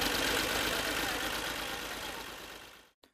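A tractor engine runs steadily while compacting chopped silage fodder laid in six-inch layers, a loud, continuous rumble that slowly fades before cutting off near the end.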